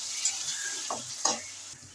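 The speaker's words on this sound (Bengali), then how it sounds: "মশলাটা আমি কষিয়ে নিচ্ছি" Spice paste with chopped tomato, salt and a splash of water cooks down in a pan, giving a soft continuous sizzle with a couple of brief stirring scrapes, close by.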